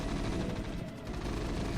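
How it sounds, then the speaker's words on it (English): Gunfire in the StarCraft: The Looming Shadow game crackles continuously, with dense overlapping machine-gun bursts that dip briefly and then resume at full intensity. "every gunshot here I placed by hand."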